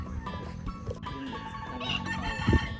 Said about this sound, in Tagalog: Ayun na po yung mga rooster farm niya.